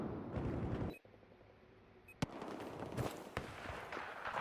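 Explosive weapon fire in Battlefield 4 Domination, grenade and rocket launcher blasts mixed with gunfire: a dense rumbling bed of battle noise broken by a dropout, then several sharp close bangs and cracks.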